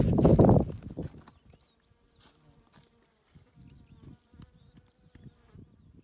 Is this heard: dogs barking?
no